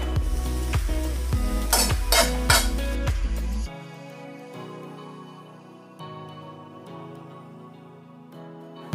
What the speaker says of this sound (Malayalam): എല്ലാം കൂടെ എടുത്ത് ഫ്രൈ പാനിലിട്ട് നന്നായിട്ട് മിക്സ് ചെയ്യുക